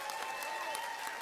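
An audience applauds a singer at a university leadership summit, a short burst of steady clapping with a faint tonal hum running underneath.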